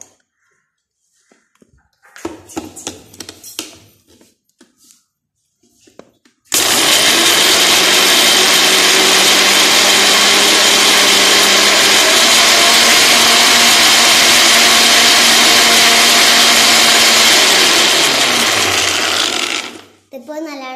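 Electric blender grinding lemon and sugar for lemon juice roars loudly and steadily for about thirteen seconds after a few soft handling clinks, its pitch shifting slightly as the contents break down before it winds down.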